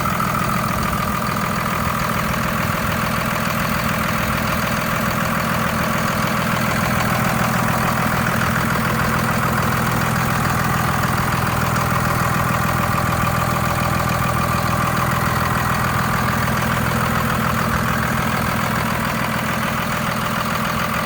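Cummins turbo diesel in a 2001 Dodge Ram 2500 SLT Laramie 4x4 idles steadily with a deep, even drone, close and continuous with no talk over it.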